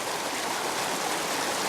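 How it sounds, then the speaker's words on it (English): Rapids on the Suwannee River rush in a dense, steady roar of whitewater that fills the sound evenly and loudly from start to finish, then cuts off abruptly at the end, with no voices. "Normally down here is the only path people have to run the rapids"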